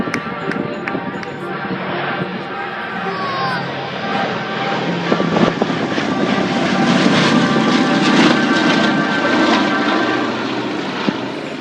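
Yankee Lady, a Boeing B-17 Flying Fortress vintage bomber of the Yankee Air Force, passes overhead at a Northern Michigan air show, its piston engines building to a loud, broad drone that swells in the second half, with crowd murmur beneath.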